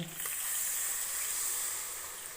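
Steady hissing sizzle of water poured into a hot pan, a continuous bright frying hiss that holds throughout without pause.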